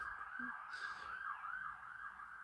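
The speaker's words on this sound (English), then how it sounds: "an ambulance going past." An ambulance siren wails in a steady rising and falling pattern, fairly distant and faint, with no talking over it.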